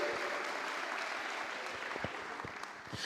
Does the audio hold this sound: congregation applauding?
yes